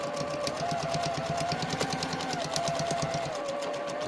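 A sewing machine runs steadily to back stitch a seam on a quilted fabric bag, giving a close, fast, even mechanical whir with rhythmic needle pulses.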